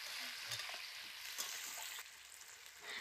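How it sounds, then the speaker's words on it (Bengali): Chopped onions frying with cumin in hot oil for a fish curry, a steady close hiss and crackle of sizzling with a few soft stirring knocks, heard alone without talk. "পেঁয়াজটা একটু লাল করে ভেজে নেব।"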